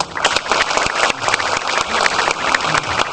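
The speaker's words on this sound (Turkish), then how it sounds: "ona da ayrıca bir alkış alalım" Loud, close audience applause with distinct individual claps over a broad crowd wash at an award ceremony opening, continuous throughout.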